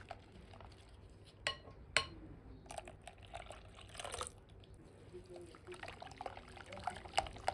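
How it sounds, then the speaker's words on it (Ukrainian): Milk being stirred into a thin, runny batter for a rolled sponge cake, with faint liquid swishes, a few sharp clinks of a utensil against a bowl and scattered light knocks, quiet and close. "Після кожної порції молока ретельно перемішуємо, щоб повністю розчинити грудочки"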